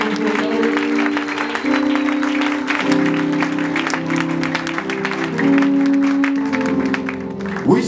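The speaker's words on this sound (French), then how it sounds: "Est-ce qu'on peut acclamer très fort?" A church congregation applauds loudly during a service, with dense clapping over sustained keyboard or organ music.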